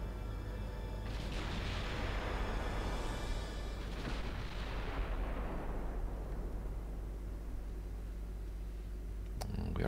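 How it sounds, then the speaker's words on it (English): Heavy naval gunfire from warships shooting high-explosive shells in the game Ultimate Admiral Dreadnoughts, set in 1910: loud booming salvos roll out and then fade into a long rumbling decay, ending with a sharp crack, with no talk. "We are firing HE."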